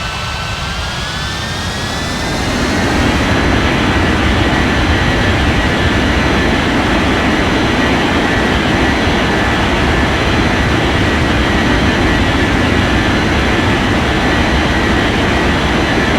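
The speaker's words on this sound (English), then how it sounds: "cleared for takeoff runway 35 right" Airliner jet engines spooling up and roaring steadily during takeoff in a flight simulator game, a loud continuous rumble with rising whine that holds for the whole stretch, no voices.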